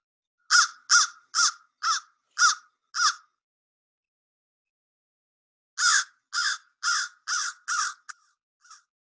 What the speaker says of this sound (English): So this is either the crow or the raven.